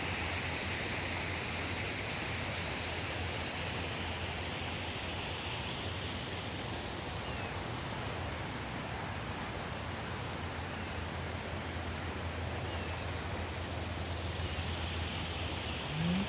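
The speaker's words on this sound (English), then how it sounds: "the creek, when it's running like this after the rain is our natural water feature" A backyard creek runs full after rain, a steady rushing wash of flowing water that continues evenly throughout, close and unbroken, with no voices.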